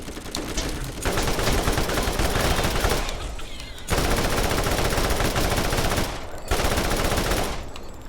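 Loud SMG fire in Borderlands comes in three long, sustained bursts of rapid shots, each broken by a short pause, with no talking over it.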